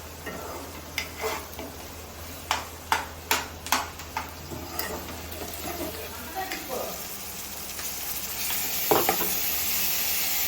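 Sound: ginger paste frying in a pan

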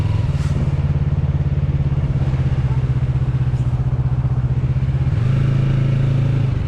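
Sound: motorcycle riding

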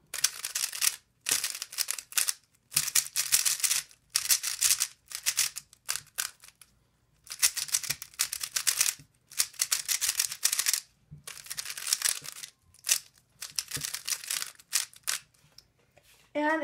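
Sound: Yuxin Little Magic M speed cube turning

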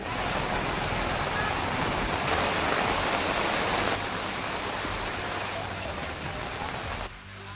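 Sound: heavy rain pouring in Belagavi, Karnataka

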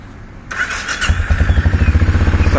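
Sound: Benelli Imperiale 400 single-cylinder motorcycle engine starting

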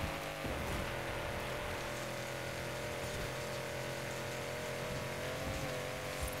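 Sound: car engine revving in fifth gear, video game race

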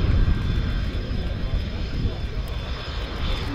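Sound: Romanian MiG-21 LanceR delta wing fighter jet flying

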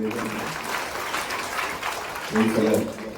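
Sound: audience applause

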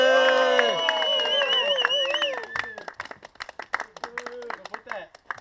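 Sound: big applause for the karting race winner

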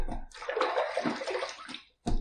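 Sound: splashing water on face before shaving

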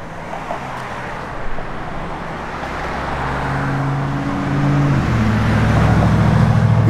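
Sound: 1972 Plymouth Duster car driving

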